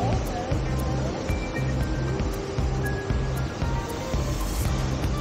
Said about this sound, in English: There's a lazy river.